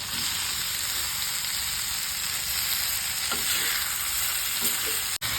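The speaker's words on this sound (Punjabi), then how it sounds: "ਨਾਲ ਹੀ ਆਪਾਂ ਗੋਭੀ ਪਾ ਦੇਣੀ ਹੈ" Cauliflower sizzles steadily as it fries in a pan, with a constant bright hiss and a few soft stirring scrapes near the end, heard alone with no talking.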